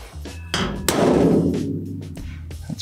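A hammer pounding a copper sink seam in a handmade sink build, sharp close metallic strikes with ringing, one heavy blow followed by lighter taps.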